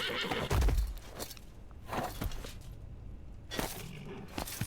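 In the video game Rise to War, a horse neighs loudly and close, then clip-clopping hooves and further whinnies follow in short bursts across several seconds, with no talk.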